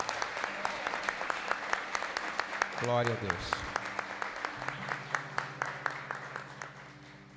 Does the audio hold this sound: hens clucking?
no